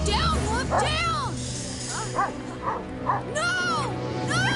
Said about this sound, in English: Down, Wolf, down!